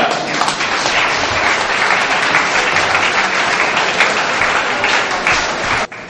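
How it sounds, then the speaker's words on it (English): Loud, steady applause from a large audience fills the room, many hands clapping densely and continuously before it cuts off abruptly near the end. "Thank you very much for that sounding applause"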